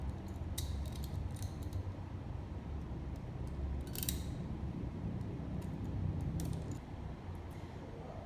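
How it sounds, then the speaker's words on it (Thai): Scissors snip the white filler string inside a LAN cable, a few sharp, close clicks over a steady low background hum. "ตัดสายสีขาวที่อยู่ตรงกลางออกนะครับ"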